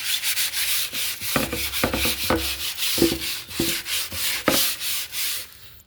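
Hard solid wood is smoothed by hand with sandpaper before varnishing, a rhythmic series of close, raspy scraping strokes repeating steadily, with no talking.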